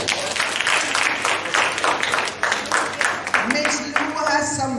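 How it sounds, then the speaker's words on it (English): An audience at a tribute event claps in scattered, uneven bursts, moderately loud and close, as a speaker talks over the applause and continues once it fades. "Miss Marshall-Lee, clap her."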